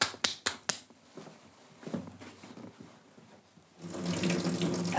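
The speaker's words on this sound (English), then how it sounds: "I'm just going to turn the water on and make sure that we've solved our little problem" A kitchen tap running after a faucet repair: a few sharp clicks and knocks from the handle come first, then after a quiet pause water gushes steadily from the spout and splashes into the sink.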